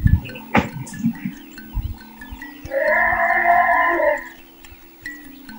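An African elephant in Tanzania trumpets once, a loud brassy blast of about a second and a half that follows a few low grunts and thuds, close and clear with no voices.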